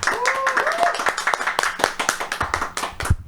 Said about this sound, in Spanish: despedimos este segmento con un fuerte aplauso